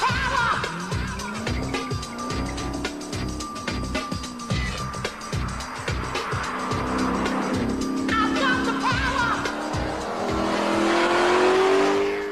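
A TVR 450 SE sports car roars nearby, engine revving hard and climbing in pitch as it accelerates, with some tyre noise and rising intensity toward the end.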